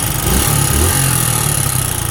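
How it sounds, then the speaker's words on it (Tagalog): A jigsaw that sounds noisy and may be low on oil, running close and loud with a steady buzzing, vibrating drone that pulses rapidly throughout. "So yan mga paps, yung jigsaw natin."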